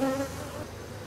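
Honeybees buzzing loudly and close during an inspection of a hive that has just swarmed, a frame of drone comb in view; a steady dense hum with a few brief higher whines near the start, no voices.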